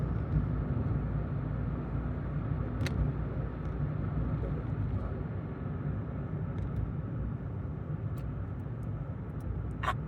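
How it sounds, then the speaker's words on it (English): Steady low road rumble and engine drone inside a car driving along a road, with a few faint clicks and no talking. "I'm driving through Robbinsville, Trump Town now."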